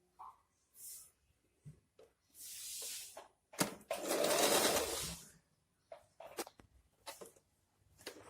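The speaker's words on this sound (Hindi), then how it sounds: "ये हमने नीचे से इसको सिल लिया है।" A sewing machine stitches a pant pocket in a few quiet, close bursts of rapid whirring, with soft handling noises and brief clicks in between as the fabric is adjusted.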